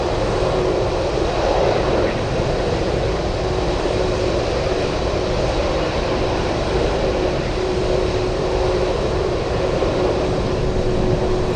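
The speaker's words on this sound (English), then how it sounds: "Nice DC-3, nice one." Douglas DC-3 propeller airliner passing at Anchorage airport on a windy day, a loud, steady, throbbing piston-engine drone with broad roaring noise that holds for the whole stretch.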